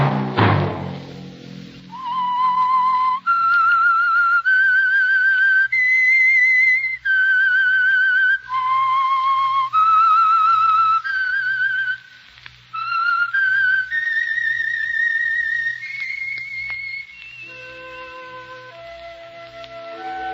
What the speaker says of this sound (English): Let that whistle be your signal for the Whistler each Wednesday night at this same time